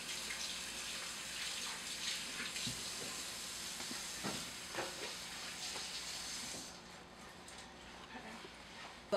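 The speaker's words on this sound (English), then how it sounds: "I'm gonna wash my hands," A kitchen tap runs steadily for hand washing, a continuous close hiss of water that stops near the end, followed by quieter room sound.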